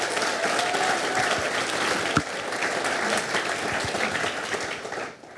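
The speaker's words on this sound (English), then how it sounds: "how about a round of applause for the ladies and gentlemen that are our recipients of our awards" An audience claps steadily at the Northeast Dirt Modified Hall of Fame annual induction ceremony, a dense sustained roar of applause that holds for several seconds and then fades out.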